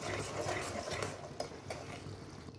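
Ash gourd laddu mixture being stirred in a pan, a soft steady scraping and shuffling of spoon against metal at close range, with no voices.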